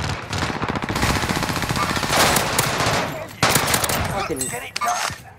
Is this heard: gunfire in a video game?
yes